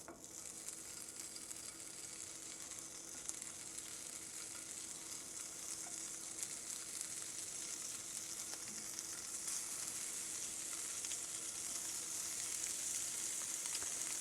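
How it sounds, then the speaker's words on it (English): Spam slices fry in a hot skillet with a steady, dense sizzle and crackle that holds evenly throughout, close and fairly loud, with no talking. "You want to fry this up till it's kind of crispy"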